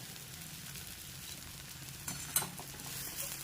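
Bhogi mixed vegetable curry with cluster beans and beans sizzling in a pan as it is stirred: a soft, steady frying hiss with a few faint scrapes and clinks, quiet and without talk.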